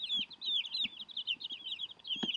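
A young rooster crows over a bed of high, continuous chirping from baby chicks, with a few soft clucks. The sound is faint and close by.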